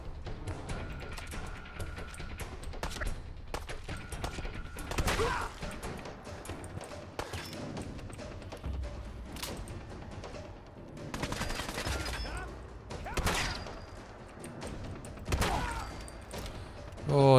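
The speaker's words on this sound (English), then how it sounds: "Going to shotgun." Shotgun blasts in Fallout 4 during a fight with raiders, scattered heavy booms spaced a few seconds apart over busy game noise, a voice talking between some shots.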